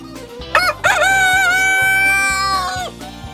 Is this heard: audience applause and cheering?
no